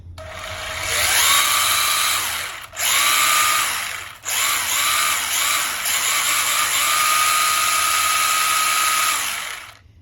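A Feiyue FY-02 RC car's electric motor powers up, giving a loud, high-pitched whine that rises and holds, cuts out briefly twice, then spins back up and runs steadily.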